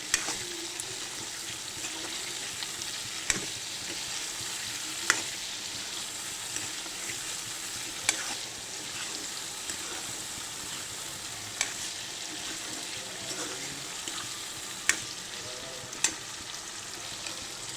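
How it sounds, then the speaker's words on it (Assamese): Meat and potatoes frying in a pan, a steady quiet sizzle with occasional sharp clicks of a utensil against the pan. "মাংসখিনি কালাৰ আহিলে এতিয়া মই আলু দিম।"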